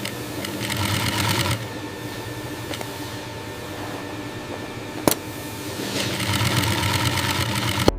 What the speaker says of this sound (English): The specialized sewing machine meticulously stitches the zipper